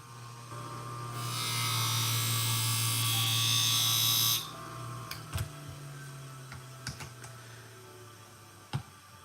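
An industrial scissors blade is honed on a sharpening machine, giving a loud, steady buzzing grind for about three seconds before it stops, followed by scattered light clicks and taps in a quieter room with a low background hum.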